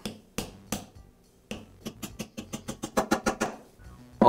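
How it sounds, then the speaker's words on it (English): A metal socket taps a bearing onto a shaft during a Milwaukee band saw gear repair, a few spaced knocks and then a quickening run of a dozen sharp metallic taps, close and fairly quiet. "I'll use a larger socket to tap it in place"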